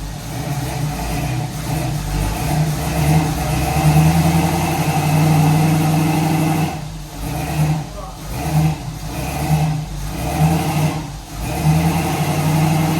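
A Chevrolet El Camino, one brake caliper stuck, runs with its engine idling and revving unevenly as it is maneuvered back and forth, a steady mid-pitched rumble with brief dips and swells throughout.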